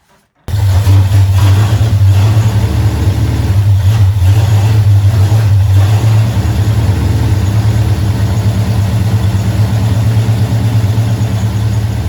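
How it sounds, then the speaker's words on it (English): A Ford 289 V8 fitted with an MSD distributor fires up abruptly and runs loud and close, its rough, uneven idle holding on throughout as if struggling to keep going. "When the engine eventually did start"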